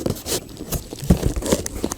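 A package is cut and torn open by hand, a close sequence of short ripping and crinkling bursts of paper or cardboard in an irregular rhythm, with no speech.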